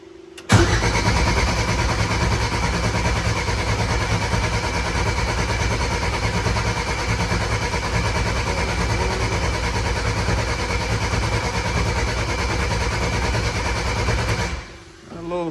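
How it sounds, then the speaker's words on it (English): A race car engine cranks and catches, then roars steadily and loudly at close range for over ten seconds before cutting off abruptly near the end. "Let's turn this thing on, crank it, get some oil pressure, and then see if we can start it."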